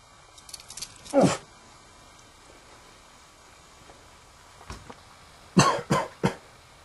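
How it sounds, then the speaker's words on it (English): Several coughs break a quiet background: one harsh cough early, a faint one later, then a quick cluster of three coughs near the end. "He coughed."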